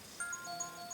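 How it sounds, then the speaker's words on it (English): A mobile phone ringtone plays faintly in a quiet room, a short melody of thin, high electronic beeps in quick succession, with no talking. "That's my phone ringing."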